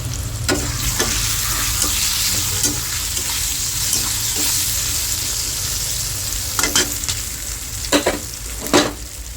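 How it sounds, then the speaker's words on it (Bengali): Potatoes fry in hot oil with salt and turmeric for a tangra fish curry, a continuous close sizzle broken by sharp scraping stir strokes that grow more frequent toward the end. "পরিমাণ মতো লবণ হলুদ দিয়ে আলুগুলিকে সুন্দর করে ভেজে নেব প্রথমে"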